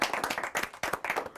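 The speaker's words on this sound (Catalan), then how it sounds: "Molt bé, un fort aplaudiment." Studio audience clapping on the Catalan spelling contest Pica Lletres, a brief close burst of hand claps in uneven rhythm with no voices.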